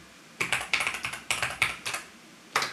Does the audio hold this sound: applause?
no